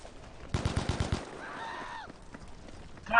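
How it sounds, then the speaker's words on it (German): A rapid burst of automatic gunfire rings out in the Battlefield V Firestorm video game, followed by fainter tonal game sounds and a brief loud noise at the end. "Drei Schüsse, hast du das gesehen?"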